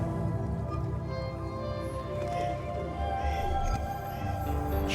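Electric guitar run through a Cornerstone Moody overdrive pedal, a sustained, steady tone with held notes at moderate level, no speech over it.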